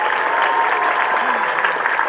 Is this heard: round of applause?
yes